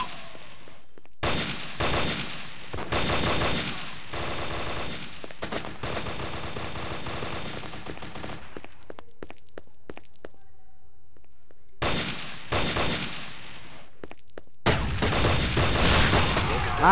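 Gunfire in the Counter-Strike video game, with long rapid bursts of loud automatic shots and blasts, separated by quieter gaps, then resuming at high intensity near the end.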